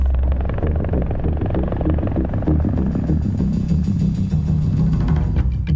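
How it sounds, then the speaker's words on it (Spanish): A helicopter rotor beats as a loud, steady low rumble with a dense thrum that stays constant throughout, with no voices over it. "Pero también lo vemos con el rotor de un helicóptero, por ejemplo."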